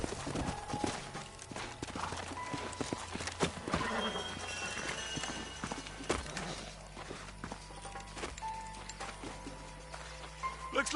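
Horses in the Red Dead Redemption video game walk with clip-clopping hooves and let out a whinny, with muffled voices and game ambience around them in a western outdoor scene.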